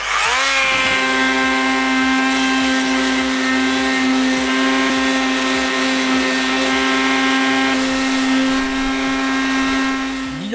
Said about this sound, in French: on va quand même essayer avec ce petit multitool